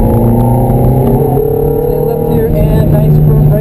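A Ferrari engine drones loudly and steadily on the track at Candlestick Park as it pulls under throttle, its harmonic whine rising slightly in pitch, heard close from inside the car.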